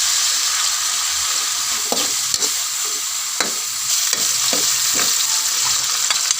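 Ingredients being stir-fried in a pan for a Filipino home-cooked dish, with a steady close sizzle and repeated scraping, clattering strokes of a utensil against the pan.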